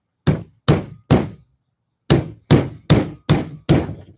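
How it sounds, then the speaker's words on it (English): A hammer strikes a chisel into wood in sharp, close, evenly spaced blows: three quick hits, a short pause, then five more in a steady rhythm. "I'm going to chisel this a little bit"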